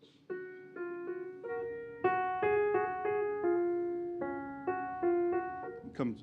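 A simple, gentle folk-like piano melody by Barber of single plucked notes in a steady, unhurried rhythm, each note ringing and fading, played alone at moderate volume.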